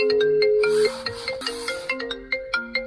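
A mobile phone rings with a bright, repeating melodic ringtone after being called from the infotainment system of a 2021 Land Rover Defender 90 D200. The tones are close and clear, pulsing in steady short notes.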